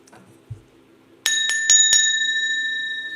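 A small bell, not a cowbell, rings four quick times in succession, bright and close, its clear metallic tone sustaining and slowly decaying after a soft thump.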